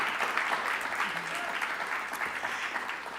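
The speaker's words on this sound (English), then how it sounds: "big round of applause" An audience at a panel discussion applauds a guest panelist, with steady, fairly close clapping throughout, a brief voice heard faintly underneath.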